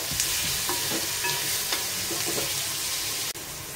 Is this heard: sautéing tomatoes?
yes